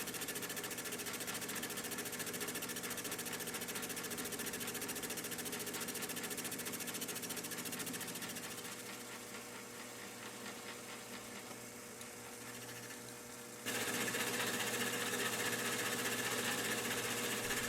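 A machine makes the final cutting pass on a round crosshead for a big steam engine, producing a steady, rhythmic mechanical whir that dips quieter partway through, then returns louder and brighter.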